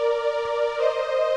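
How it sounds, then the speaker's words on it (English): Simple synthesizer pad from a song, a soft sustained chord that holds steady and brightens slightly partway through, brief and alone. "Yeah, it's very simple pad sound."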